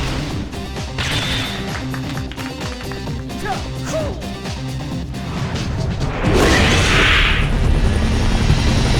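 Two planes in the Viewtiful Joe video game roar over dense, cluttered game audio with repeated hits and bangs. The noise grows louder and fuller in the last few seconds, and no one speaks.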